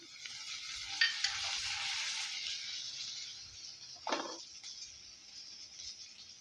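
Boiled green peas hit a hot frying pan with a loud sizzle that slowly settles into a steady hiss, followed by a short stirring scrape near the end.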